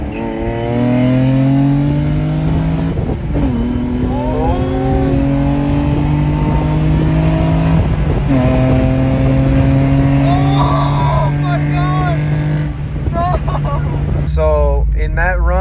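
Loud 3.5L V6 engines of a 2008 Honda Accord coupe and 2004 Nissan 350Z rev and accelerate hard together in a roll race, pitch climbing through repeated gear shifts, roaring close and continuous throughout.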